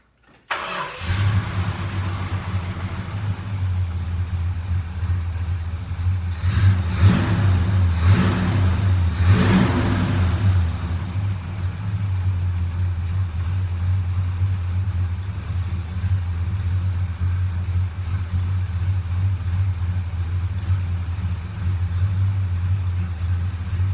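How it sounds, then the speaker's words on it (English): The big block V8 in a 1970 Dodge Super Bee cranks and fires, briefly rises with a few blips of the throttle, then settles into a loud, steady, lumpy idle nearby. "I'm gonna go ahead and start the motor."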